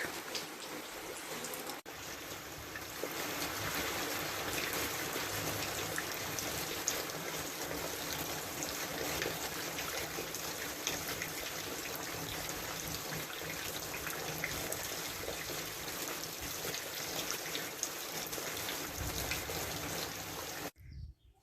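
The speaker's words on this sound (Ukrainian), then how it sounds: "а йде дощик" Steady rain falls in a continuous, even hiss over a village for the whole stretch, with no talk, ending abruptly.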